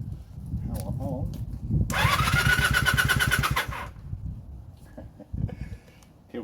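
A motorcycle's electric starter whirs for about two seconds without the engine firing, since the kill switch is still on, while someone talks close by before and after.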